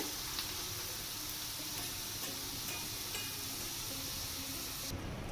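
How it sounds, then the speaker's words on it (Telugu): Sweet corn kernels fry in oil until crisp and golden, giving a dense continuous sizzle and crackle with occasional stirring noises. The sizzle stays close and even and cuts off sharply at the end. "గోల్డెన్ కలర్ వచ్చేంత వరకు వేయించుకోవాలి క్రిస్పీగా."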